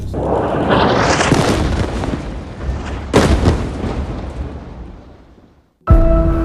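A heavy artillery blast in Gaza rumbles and echoes among war-destroyed buildings, then a second sharp explosion follows, its roar slowly fading before an abrupt cut to another loud burst.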